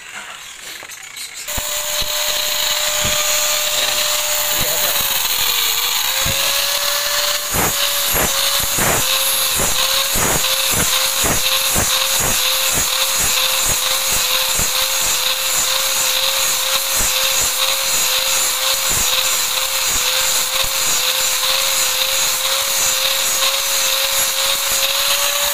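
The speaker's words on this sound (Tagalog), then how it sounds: "Makikita natin yung posisyon ng grinder niya sa paghasa." An angle grinder sharpens and finishes stainless steel with an 80-grit disc, running loud and close as a steady high whine, with rapid rhythmic scraping strokes of the disc against the metal throughout.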